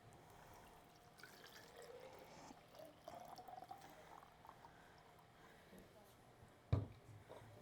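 Water drains through soil into a cut-off baby bottle during a soil texture demonstration, a faint, quiet trickle and drip with a soft knock near the end.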